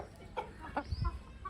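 A rooster gives several short, soft clucks in close succession, fairly faint against a quiet background, with a low thump or two near the end.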